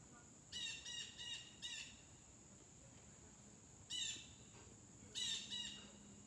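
A bird chirps outdoors in quick, bright bursts of several notes. There are two main clusters with a pause between them, heard alone over faint background hiss.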